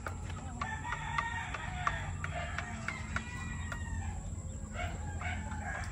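Many chickens, including breeding hens, cluck and squawk together in a busy poultry farm chorus, with a rooster crowing among them. A steady background hum runs throughout.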